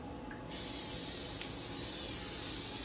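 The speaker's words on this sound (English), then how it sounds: "You'll spray your pan." After a short quiet moment, a continuous aerosol hiss of cooking spray on a baking pan starts and keeps spraying steadily, close and fairly soft.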